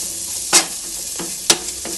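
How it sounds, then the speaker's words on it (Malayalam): Fried chicken curry sizzles in a medium pan while a utensil stirs it, with two sharp scraping strokes and fainter stirs over a steady close-up frying hiss. "നല്ലോണം മിക്സ് ചെയ്യാം"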